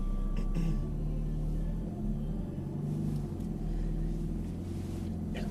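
A Ferrari F430 engine pulls on a track, heard from inside the car as a low, steady rumbling drone whose pitch shifts slightly as the throttle is eased on, with no speech.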